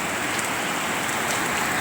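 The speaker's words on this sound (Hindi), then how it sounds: "बहुत तेज बारिश हो रही है।" Heavy rain pours down outside an open gate in a dense, steady wash of hiss that stays loud and close throughout, with no talk over it.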